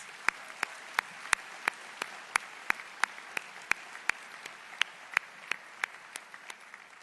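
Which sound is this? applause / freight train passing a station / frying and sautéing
applause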